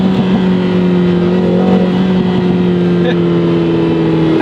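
A Lotus Emira First Edition driven hard in sport mode on a wet road, its engine droning steadily and loudly under acceleration, with a few sharp exhaust pops breaking through.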